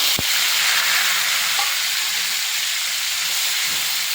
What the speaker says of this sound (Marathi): आता आपलं तेल एकदम व्यवस्थितशीर गरम झालेलं आहे त्यामध्ये मी थोडीशी राई आणि थोडं जिरं घातलेला आहे